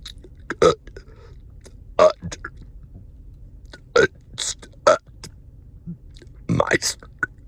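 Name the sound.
voice imitating talking in burps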